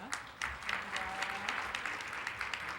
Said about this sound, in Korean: 큰 박수를 축복해 주시기 바랍니다